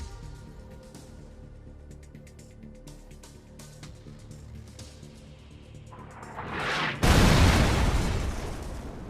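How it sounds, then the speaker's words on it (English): Buildings being destroyed in a dark zone in PUBG Mobile Lite build to a sudden loud explosive blast, then a sustained roaring rumble, following a quieter stretch of game ambience. "inside these zones, buildings will be randomly targeted and potentially completely destroyed."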